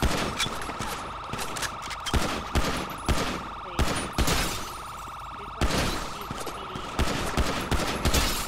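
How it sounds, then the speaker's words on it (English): Rapid bursts of video game gunfire crackle across a police-style shootout scene, with repeated loud volleys and short gaps between them, plus a steady alarm-like tone running underneath. "Shot fired."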